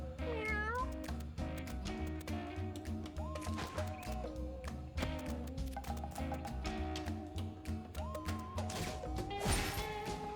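Cat meows from the video game Mewgenics, several short mews over steady game music with occasional crashing hits.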